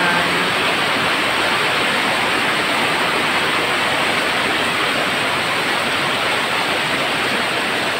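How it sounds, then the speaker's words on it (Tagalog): Heavy rain pours in a steady, dense roar with floodwater rushing along a street underneath, loud and unbroken throughout, no voices. "Pag malakas ang ulan."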